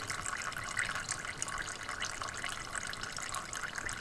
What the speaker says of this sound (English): right here you see we have the oil coming from this hose